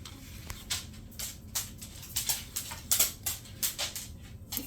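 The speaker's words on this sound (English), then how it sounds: "You can hear my dog lurking around in the background." Light, irregular clicking taps scattered across a quiet room, like a dog's nails on a hard floor, faint and uneven in rhythm.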